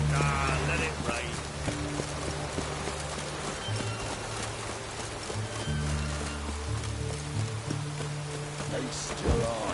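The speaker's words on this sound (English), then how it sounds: "Witches have conjured rain." Conjured rain in The Witcher 3 video game pours as a steady, dense hiss for the whole stretch, layered with sustained low tones and game ambience, with a brief louder swell near the end.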